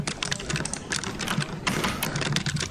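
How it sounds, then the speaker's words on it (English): Fingers type rapidly on a computer keyboard close to the microphone, a dense run of quick clacking keystrokes that continues throughout with short pauses. "Can you hear my microphone keyboard sounds too?"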